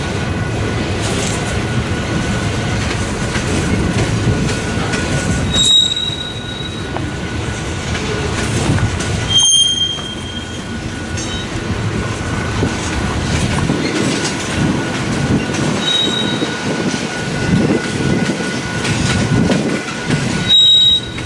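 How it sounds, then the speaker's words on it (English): A westbound manifest freight train rolls steadily past a crew-change stop in Fremont, Nebraska, loud and close, with continuous rail rumble, wheel clatter and several sharp squeals of wheels on rail, wind buffeting throughout. "this is a westbound manifest that stopped at a crew change here in Fremont"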